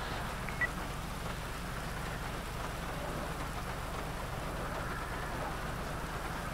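Steady rain pours in a GTA 5 roleplay game scene, a constant hiss with faint low rumble, no talk heard.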